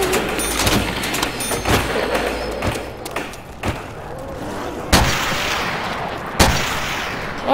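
Dragunov sniper rifle shots boom in the Call of Duty zombies video game on the Nacht map, a handful of loud, spaced single blasts among smaller thuds, with a player talking at times.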